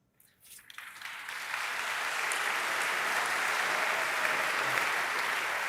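Applause swells from a few scattered claps into steady, full clapping from a large lecture audience that continues evenly.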